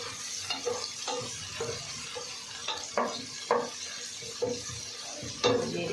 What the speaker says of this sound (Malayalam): ബിരിയാണിയിലേക്കുള്ള ഉള്ളിയൊക്കെ പൊരിച്ച് കഴിഞ്ഞ്